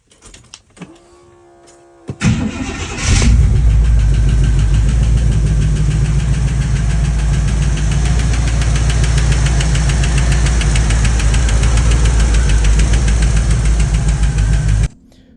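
A 1964 Cadillac Sedan DeVille engine starts after a brief cranking and then runs steadily and loudly at idle, slightly lean, with a rough, rumbling low-end throb throughout.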